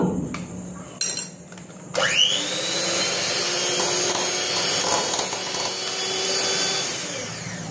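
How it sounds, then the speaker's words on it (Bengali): An electric beater whirs steadily as it whisks cake batter with sugar added bit by bit, a loud, close motor whine that starts after a few short bursts and then holds steady. "এবার এটা আমি একটা ইলেকট্রিক বিটার নিয়ে নিয়েছি আমি, এটা দিয়ে আমি এটা আমি ফেটিয়ে নেব"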